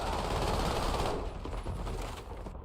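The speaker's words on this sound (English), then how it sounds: "Stop shooting me in the head." Rapid automatic gunfire from the video game Warzone rattles in a loud burst for about a second, then gives way to scattered, quieter shots and game noise trailing off.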